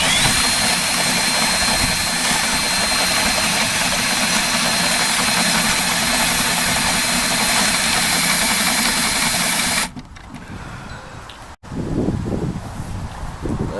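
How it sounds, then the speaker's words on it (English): A power drill runs continuously at high speed for about ten seconds drilling a Unistrut angle bracket, then stops abruptly, leaving quieter handling noises. "Gotta finish drilling this side out."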